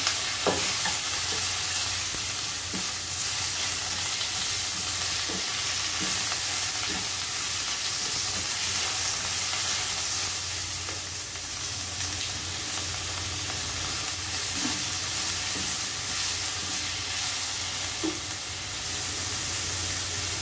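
Fish fillet pieces go into a pot of Thai tom yam seafood soup, giving a continuous bubbling, sizzling hiss with faint clinks and stirring across twenty seconds, steady and close, with no talking.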